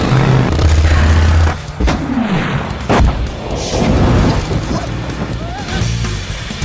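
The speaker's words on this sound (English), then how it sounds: "Explosive tank action for up to 4 players." Loud booming tank explosions and crashes from Battle Tanks on Nintendo 64, several heavy blasts over a dense rumbling game soundtrack.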